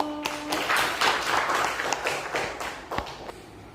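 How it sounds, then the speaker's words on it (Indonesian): A classroom full of students claps for a student presenter, a brief burst of dense, close applause that thins into scattered claps and taps. "Kita beri tepuk tangan dulu."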